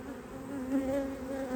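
Honeybees buzzing around hives in Slocum early in the beekeeping season, a steady, close, droning hum at even loudness for the full length.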